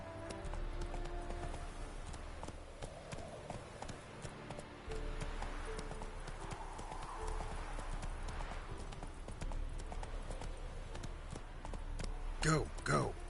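Roach, a horse in a video game, gallops with rapid rhythmic hoof clip-clops that run continuously and fairly close, with a brief neigh near the end and a voice speaking over it.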